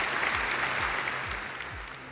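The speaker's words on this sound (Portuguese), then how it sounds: "Palmas pra ele." Applause from an audience at a Brazilian web talk show, a dense wash of clapping throughout, with a few heavier thumps underneath.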